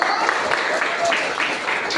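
Applause for Coach Mino at a group training session: a brief burst of steady clapping from an audience, close and continuous, with voices mixed in.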